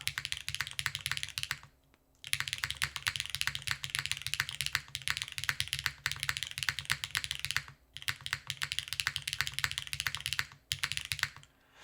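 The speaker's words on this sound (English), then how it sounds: "We're using a hot swap PCB with Keygeek explosion switches, cherry stabilizers." Typing on a Wraith 60 keyboard with a hot-swap PCB, Keygeek Explosion switches and Cherry stabilizers: rapid, crisp clacking keystrokes in close bursts, broken by brief pauses, with no talking.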